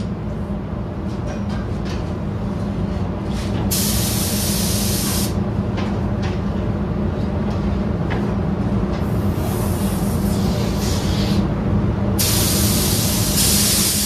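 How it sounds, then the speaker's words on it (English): A spray gun hisses steadily, spraying clear coat on a 1983 Chevy van roof, with sharp airy bursts starting and stopping in passes over a constant compressor-like background. "Wait for it to flash, then we're ready for some clear."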